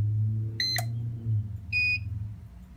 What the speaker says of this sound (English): So that beep usually means it's charging.